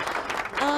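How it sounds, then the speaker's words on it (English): Audience applause in a podcast studio for the Black Effect podcast network, a brief burst of clapping under a faint overlapping voice, ending as a tone rises. "let's get a hand clap"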